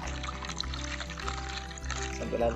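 AB Mix hydroponic nutrient solution pours steadily with a soft liquid splash over a low rhythmic hum, brief and close.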